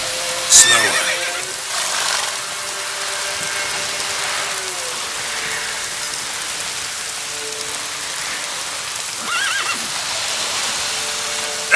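Roach the horse in The Witcher 3 on the Nintendo Switch Lite gives a brief whinny early on, over a steady hiss of rain, with a second faint neigh later and occasional soft hoof sounds.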